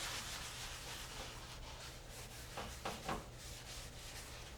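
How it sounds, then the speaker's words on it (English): A griddle is rubbed and wiped with grease before catfish is cooked on it, a faint, steady scraping with a few slightly louder strokes. "So I am going to lube up and grease my griddle."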